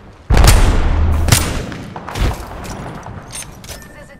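A frag grenade explodes in Apex Legends, a loud booming blast with a low rumbling tail, followed by a couple of further thuds and scattered gunfire fading out.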